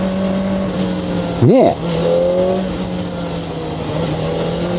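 A Kawasaki ZX-4R high-revving sport motorcycle engine holds a steady drone in second gear at about 45 km/h and 5800 rpm, with one quick rev swell rising and falling midway, while a rider talks briefly over it.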